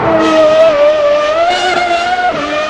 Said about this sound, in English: the engine was, oh my god, even though it sounded good